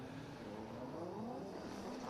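A white Nissan drift car passes by at a drift event, its engine a faint, distant, continuous rising drone with shifting pitch, heard alone without talk.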